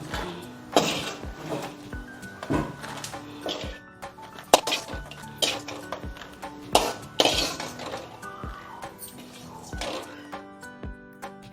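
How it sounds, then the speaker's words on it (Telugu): Fried dried red chillies being tipped and scraped onto a plate while making Andhra gongura pachadi, with close, irregular clinks and rattles of utensil on dishware. "దోరగా వేగినాయి ఎండుమిరపకాయలు, తీస్తున్నాను ప్లేట్లోకి"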